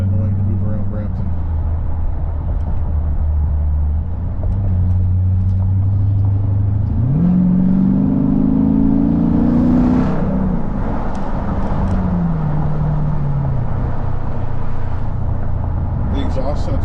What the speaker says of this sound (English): The exhaust sounds so much nastier when it really pops off when you drive against another person